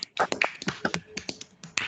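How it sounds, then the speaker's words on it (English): Several people clapping over microphones at the end of an online talk, a quick irregular patter of sharp, close hand claps lasting about two seconds with no voices. "you can hear hopefully hear us clapping"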